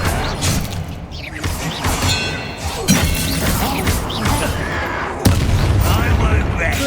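A disarming spell cast in Hogwarts Legacy lands with a loud booming crash amid continuous layered battle noise, repeated impacts cutting through the dense combat din.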